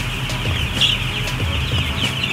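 Chickens cluck continuously in a semi-closed broiler house holding around 14,000 birds, a dense steady flock chorus with one brief louder call standing out near the middle, no voices.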